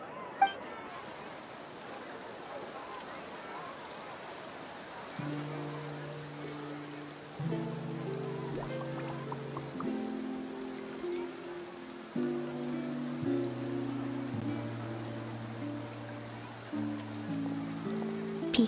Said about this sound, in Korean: 비가 오는 것 같네.